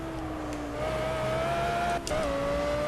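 A simulated Audi R8 GT3 race car in Project Cars on Xbox One holds a steady engine drone in second gear, its pitch climbing gradually, with a brief dip in the middle before the revs pick up again.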